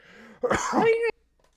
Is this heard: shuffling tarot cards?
no